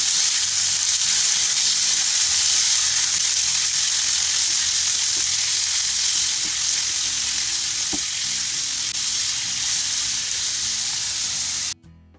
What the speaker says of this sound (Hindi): 400 ग्राम चिकन है, ये चेस्ट पीस है, इसको मैंने छोटे छोटे पीसेस कर लिए हैं। इसको मैं फ्राई कर लूँगी।